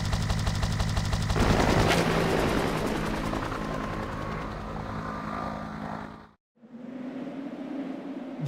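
A helicopter in the Resident Evil 3 video game thrums loudly alongside bursts of gunfire-like noise for several seconds, then cuts out briefly before the rotor-like drone resumes.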